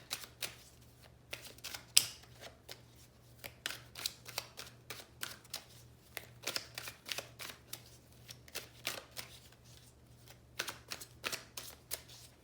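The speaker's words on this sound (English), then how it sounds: "let me shuffle the cards" A deck of tarot cards being shuffled by hand, repeated quick riffling snaps and soft card slaps in irregular bursts, close and quiet over a faint steady hum, no talking.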